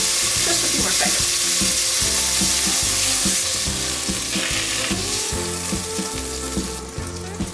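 Cookies frying in a pan on a stovetop give a loud, steady sizzle with repeated crackling pulses, running continuously and alone without any voices.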